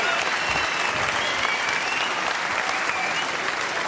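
Sustained applause from a snooker crowd at the Masters final presentation, a dense, steady wash of clapping filling the room for the whole stretch without a break.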